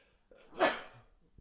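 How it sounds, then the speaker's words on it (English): A single massive human sneeze bursts out loud and close, a sharp broadband blast with a brief intake before it and quiet trailing breath after. "Sorry, I just had a massive sneeze."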